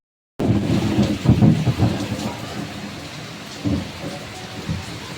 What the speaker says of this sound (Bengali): বৃষ্টি শুরু হয়ে গেছে দেখো।